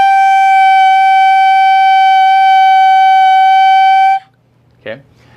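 A clarinet mouthpiece and barrel played alone hold one steady, bright, reedy tone for about four seconds before cutting off sharply, followed by a short breathy sound.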